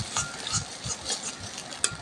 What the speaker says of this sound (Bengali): এইভাবে নাড়াচাড়া করলে